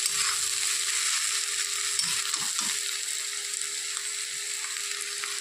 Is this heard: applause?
no